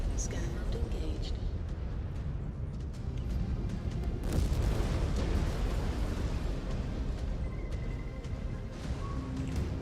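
A mech blows up in the MechWarrior 5: Clans video game, a loud, heavy explosion bursting midway through dense, continuous battle noise, with voice chatter mixed in.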